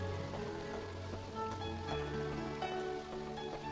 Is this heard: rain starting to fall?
yes